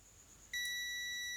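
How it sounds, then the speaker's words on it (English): A multimeter's continuity buzzer starts abruptly as probes touch a resistor point on a laptop board, holding a steady, shrill electronic tone for about a second after a moment of quiet room hiss. "the multimeter is here and you can hear the buzzer sound"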